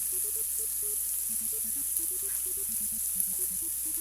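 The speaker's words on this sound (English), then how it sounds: "fry the shrimps. I'm just gonna let it cook for about a minute or two on each side" Shrimp frying in a pan for seafood chowder, giving a steady, even sizzle that holds at a constant level throughout, close and alone, with no talk over it.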